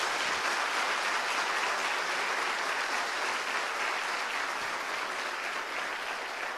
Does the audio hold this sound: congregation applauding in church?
yes